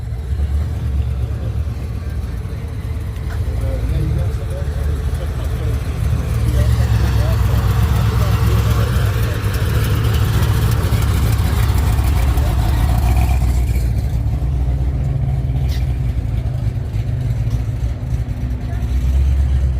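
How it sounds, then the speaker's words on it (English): A big-engined car runs at a Cars & Coffee show in Beaumont, Texas, with a steady, loud, close idle rumble that swells slightly midway while people talk around it. "Big motor."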